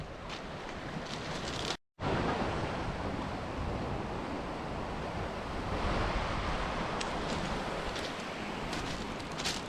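Sea waves washing against the rocky Angus coast in Scotland, a loud, continuous wash of surf with wind rushing across the microphone, briefly cut off by a short drop to silence.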